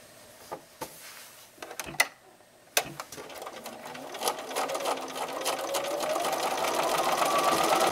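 A sewing machine joins jelly roll fabric strips, starting with a few scattered clicks and taps before a continuous stitching whir builds and grows louder toward the end, close by and without talk.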